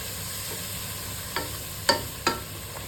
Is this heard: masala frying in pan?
yes